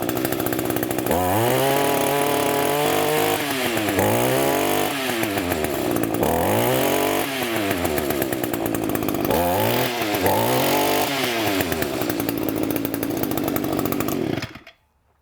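A small 2-stroke string trimmer engine runs during carburetor adjustment, loud and close, its revs surging up and falling back in repeated swells before it cuts out at the end.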